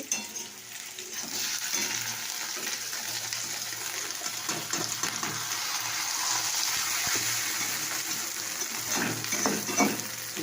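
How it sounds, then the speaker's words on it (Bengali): Egg omelette frying in a pan with onions, a steady soft sizzle and crackle running throughout at close range, with faint stirring and small clinks near the end. "আর এখানে দেখো ডিমের অমলেট হচ্ছে"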